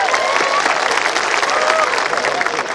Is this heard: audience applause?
yes